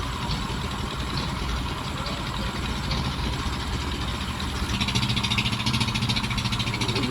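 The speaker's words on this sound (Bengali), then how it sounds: "যে উপরে নৌকার মধ্যে একটা মেশিন চলতেছে, মূলত এটা অক্সিজেন তৈরি করে।" An oxygen-producing machine runs aboard a river fishing boat, a steady engine drone that idles on throughout and grows a little more pulsing toward the end.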